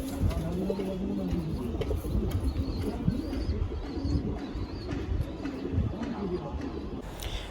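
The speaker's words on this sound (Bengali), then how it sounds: "পেট পাতা আছে, নর পায়রা।" Giribaz pigeons cooing repeatedly at a bird market, with steady low coos throughout, some chirps, and background chatter from people nearby.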